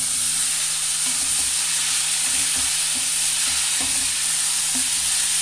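Black chickpeas go into hot oil spiced for masala chana, setting off a steady, loud, hissing sizzle with faint stirring clinks underneath.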